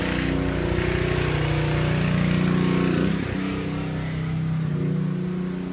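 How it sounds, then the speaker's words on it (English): A gas-powered pressure washer power washing the outside of a house runs with a steady, fairly loud engine drone that barely changes over several seconds, and no one speaks. "They're power washing the house."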